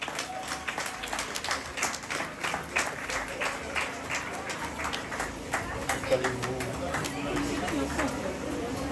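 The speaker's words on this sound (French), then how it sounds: "Sous vos applaudissements, s'il vous plaît." An audience applauds youth under-13 team champions and coaches at a podium honor ceremony, with a crowd clapping steadily alongside chatter and background voices.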